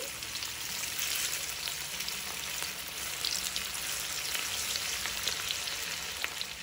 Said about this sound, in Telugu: ఆయిల్ బాగా వేడయ్యాక మనం తయారు చేసుకునే ఈ వడల్ని దీనిలో వేసుకోవాలి. మీడియం ఫ్లేమ్లో పెట్టుకుని వేయించుకోవాలి.